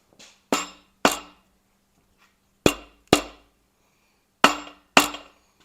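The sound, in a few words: rubber hammer tapping an engine crankshaft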